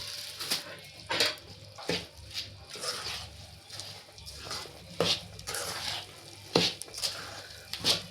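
Jaggery and coconut powder pak mixture stirred in a pan, giving soft scraping and wet patter strokes with occasional sharper clinks of the spoon against the pan, close and moderate in level, no talking.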